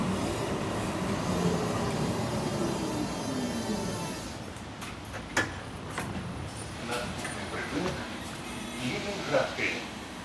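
A Minsk BKM 60102 tram on route 7 pulls in with a low rolling rumble and a fading screech of wheels on rail, then scattered clicks and clanks as it slows, with voices talking over it.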